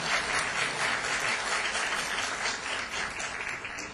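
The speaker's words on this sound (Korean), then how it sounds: "박수로 소개해 주시기 바랍니다." Sustained applause from an audience at a 2010 anniversary commemoration ceremony and academic conference, a dense, steady clapping that fills the whole stretch without a break, loud and even from start to finish with no speech over it.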